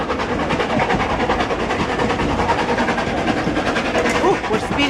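A train rumbles along in a steady, continuous roar with a faint rhythmic clatter, heard from on board, loud and unbroken throughout.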